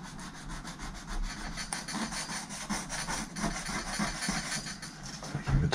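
Hand rubbing down the casing of a Dell Latitude CPi laptop, a steady close scratchy friction with rapid back-and-forth strokes, continuous and fairly quiet.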